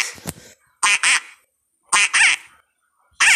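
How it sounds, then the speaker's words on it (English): Rubber duck toys squeak out quacks in separate bursts, a short one followed by three paired squeezes, loud and close with silence between. "Stop quacking those rubber duckies."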